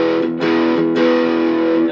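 Electric guitar run through an EarthQuaker Devices Plumes transparent overdrive pedal, a few sustained distorted chords ringing loud and close, each struck anew with a sharp attack.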